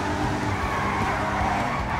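A BMW drifting in the video game GTA 5 produces a continuous loud tire skid and squeal over engine noise, steady throughout with no pause.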